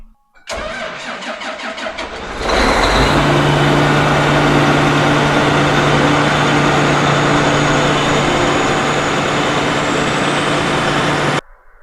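A combine harvester's engine cranks with rapid rhythmic turning for about two seconds, catches, and settles into a loud, steady running drone with a constant hum, heard up close and alone until it cuts off at the end.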